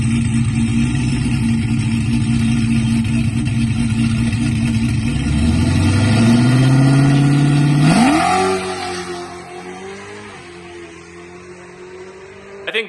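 A Dodge Charger with reworked rear suspension revs hard and loud through a drag launch, the engine note climbing steadily for about eight seconds before cutting back and settling to a lower drone, with no talk over it.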